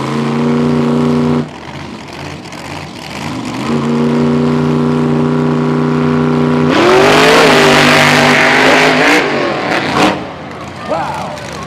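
Monster truck engines at a fairground race roar and rev loudly, holding droning pitches then surging into a harsh, rising howl, with an announcer's voice mixed in.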